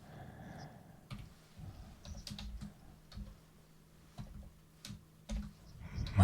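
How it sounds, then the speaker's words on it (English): Someone types on a computer keyboard while writing Qt C++ code for a calendar application, producing quiet, irregular clusters of key clicks with short pauses between bursts, close and fairly soft. "My typing's not working out too well today."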